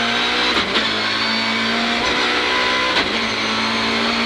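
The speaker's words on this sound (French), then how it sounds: "On a un moteur expressif là on y a mis une boîte séquentielle." A BMW M3 rally car engine with a sequential gearbox drones at high revs on a circuit, holding a steady pitch with a few brief blips as it shifts, close and continuous.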